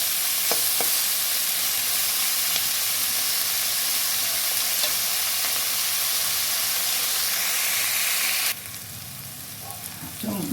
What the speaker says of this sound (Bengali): কাঁচা লঙ্কা দিয়ে দেবেন। টমেটোটা আমি পরে দেবো, পেঁয়াজটা ভাজা হয়ে যায়।